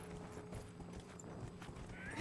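A horse's hooves clip-clop in a steady trotting rhythm in the video game Dragon Age Inquisition, faint and quiet with no talk.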